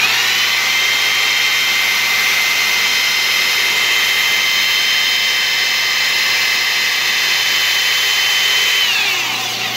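A power drill spins an aluminum RC Clodbuster chassis link against sandpaper, giving a loud, steady high-pitched whine that holds for several seconds, then winds down as the drill slows.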